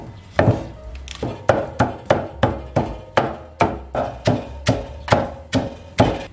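Vegetables chopped with a cleaver on a board for stir-fried rice noodles with canned pork ribs: about fifteen sharp, evenly spaced woody chops in a steady rhythm, close and clear with no talk.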